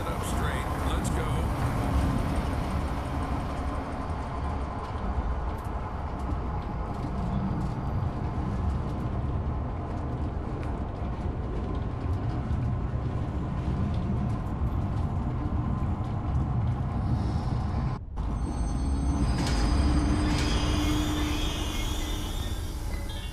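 A train ride sets off in the horror zoo game Zoochosis, heading for the giraffe enclosure, with a steady, loud mechanical rumble that stays unbroken for over twenty seconds apart from one brief dropout near the end.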